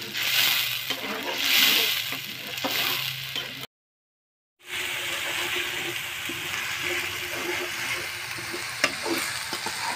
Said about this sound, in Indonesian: Tumis sampai bumbunya benar-benar matang ya.